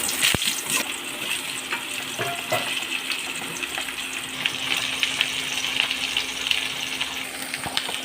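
Vegetables and potatoes hit hot oil in a pan and fry with a loud, steady sizzle and crackle that fills the whole stretch, close by, with no talking.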